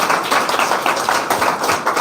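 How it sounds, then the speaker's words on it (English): Audience applause at a Republic Day public speaking contest at a college, steady dense clapping filling the whole stretch at moderate loudness with no voices over it. "There's applause for them."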